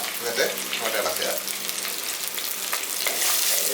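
Onion and garlic tipped into hot oil for a frozen fish masala, a loud, dense sizzle with a few stirring scrapes, continuous throughout with faint speech underneath.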